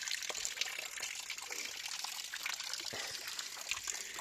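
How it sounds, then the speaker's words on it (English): Water spilling off an overflowing tank fills the clip with a steady, faint trickling and splashing, continuous and unbroken, with no voices. "when I got that water running off"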